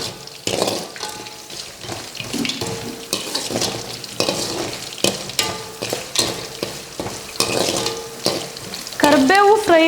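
Curry leaves fry in hot oil in a pan while chitranna is being made, sizzling and crackling close up, with repeated scraping and clinking of a spatula stirring, busier toward the end.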